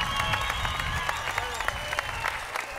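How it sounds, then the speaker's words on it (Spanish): Crowd applause and cheering at a festive Oaxacan street celebration in San Jacinto Amilpas, moderate and continuous, mixed with music tones and general crowd noise. "¡Regálenme un aplauso para el señor!"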